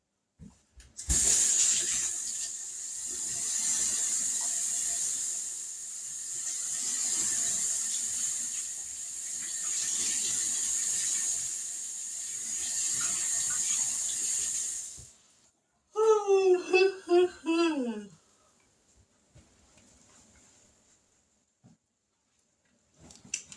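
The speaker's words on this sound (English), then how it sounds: "Let me wash my hands." Water runs steadily from a kitchen tap for about fifteen seconds as hands are washed, a bright continuous hiss with small splashing variations, then stops, followed by brief squeaky rubbing and quiet handling sounds.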